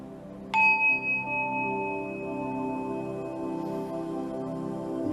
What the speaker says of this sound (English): And we allow this bell to call us inward.